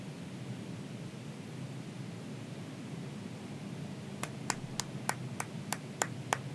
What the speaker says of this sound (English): You got one person clapping.